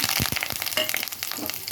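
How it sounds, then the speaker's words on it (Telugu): Crackling sizzle of spices hitting hot oil, with sharp pops and spattering over a steady hiss, close by. "నూనె వేడెక్కింది, తాలింపులు వేసేసుకుంటున్నాను"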